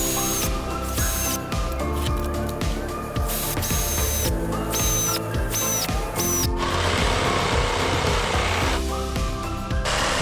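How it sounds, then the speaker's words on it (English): A body saw cuts an air cleaner inlet hole in the metal body of a GX 300 series Landcruiser for a snorkel install, giving a harsh, buzzing rasp in repeated bursts with short pauses, loud and close. "Using the body saw, carefully cut the new air cleaner base inlet hole as marked from the templates."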